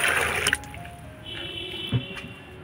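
Water poured and mixed by hand into fermented mustard cake in a home kitchen, a brief liquid gush and sloshing that settles into a faint trickle, with no talking.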